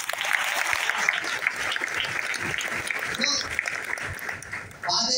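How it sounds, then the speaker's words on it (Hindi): Audience clapping at a motivational stage-sharing event, a steady dense burst of applause that continues throughout with a brief dip near the end, mixed with some crowd noise. "यहाँ पे आप लोग ताली बजाओ"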